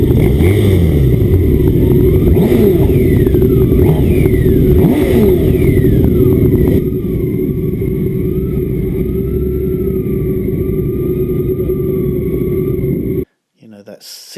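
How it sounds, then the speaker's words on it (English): A BMW K1600B inline six-cylinder motorcycle engine revs hard and rises in pitch, then settles into a lower steady run as it pulls away, loud and close. "that 6-cylinder inline engine is pretty unique, and it has a sound all of its own"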